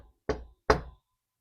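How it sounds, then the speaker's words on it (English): Two heavy knocks bang on a castle door, loud and close, with a short pause between them and silence afterward. "Jack banged on the castle door."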